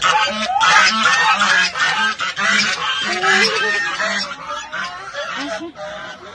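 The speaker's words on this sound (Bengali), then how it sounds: "এগুলোকে রাজহাঁস বলে।" A flock of domestic geese honks loudly and continuously, overlapping calls close by with no clear talk.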